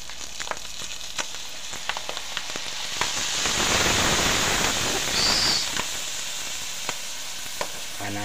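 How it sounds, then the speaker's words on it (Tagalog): Bopis ingredients sautéing with fish sauce (patis) in a pan give off a loud, close, continuous hiss and crackle. The sizzle swells into a dense rush midway, with light utensil taps throughout. "Ginigisa natin. Ginigisa natin mabuti."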